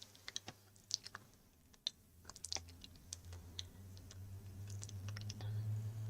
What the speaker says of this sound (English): now I get to start with my shuffling